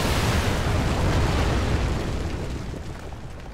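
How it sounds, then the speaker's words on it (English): A dynamite blast in a shooter video game bursts out as a broad, heavy roar that starts loud and slowly fades and rumbles away over a few seconds, with no voices. "He has the dynamite clearing our path"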